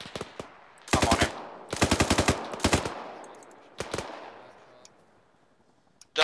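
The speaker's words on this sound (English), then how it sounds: "We got shots coming in north." Automatic weapon fire from the Arma 3 military shooter crackles in several rapid bursts, some sharp and near, others thinner and more distant, with short gaps and no voices.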